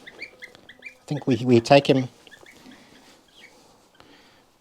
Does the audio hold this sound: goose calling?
yes